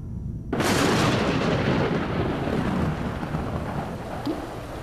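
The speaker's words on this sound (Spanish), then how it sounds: "Mientras las tormentas retumbaban en el cielo" Thunder in a primeval storm over the early Earth breaks in suddenly with a loud broadband crash, then rolls on as a sustained rumble, with rain-like hiss throughout.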